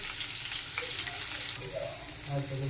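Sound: bitter gourd slices frying in a pan

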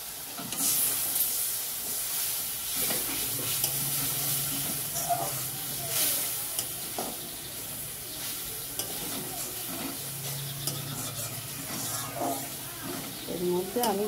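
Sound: spice paste being stirred and fried in a pan

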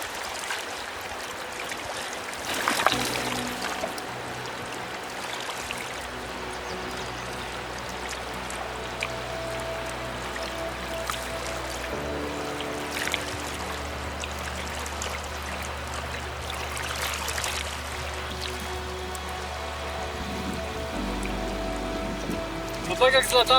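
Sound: water sloshing as handmade raft is tested on water

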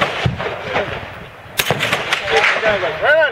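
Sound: rifle gunfire at practical rifle shooting stage

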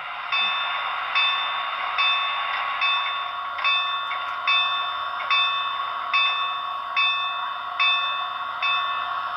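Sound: model steam locomotive bell sound effect

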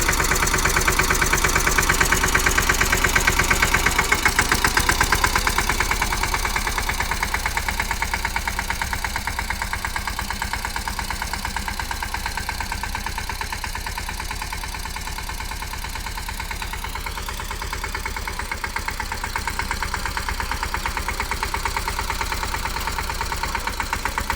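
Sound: tractor engine idling

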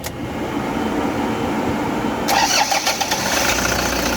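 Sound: Toyota Hiace engine starting

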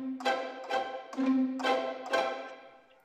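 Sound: pizzicato violin samples from Spitfire Audio Symphony Orchestra Core

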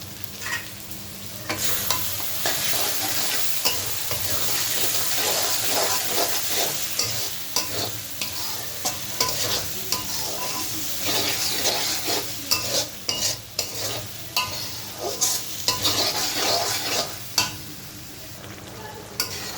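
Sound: spices and garlic being stirred and fried for beef curry

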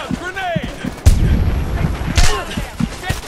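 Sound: heavy gunfire in the video game Homefront

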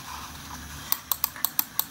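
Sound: HP Comfort Mouse X1500 button clicks

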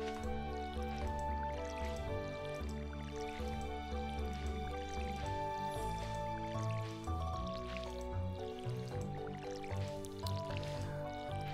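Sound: watering can pouring water in video game Stardew Valley

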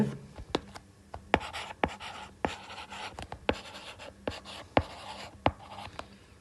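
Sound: drawing a geometry figure by hand

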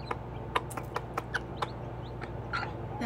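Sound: mother hen cooing to her chicks to eat

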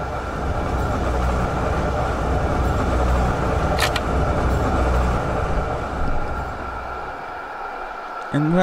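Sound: tram driving in LOTUS Simulator video game, Düsseldorf

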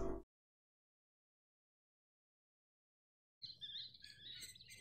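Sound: birds chirping in video game Half-Life 2

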